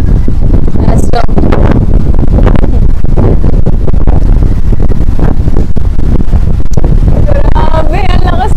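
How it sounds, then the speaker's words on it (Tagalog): Strong typhoon wind buffets the microphone on a seaside shore, a loud continuous roaring rush with gusty surges, while a person speaks over it. "Grabe, ang lakas ng hangin."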